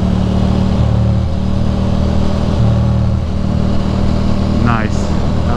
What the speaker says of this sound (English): Full downshift to fourth, so I can pull out nicely